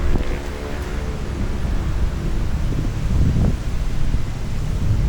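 Wind rises suddenly during a rainstorm on an outdoor RC crawl, buffeting the microphone with a loud, continuous rumbling roar that swells in gusts, with no speech.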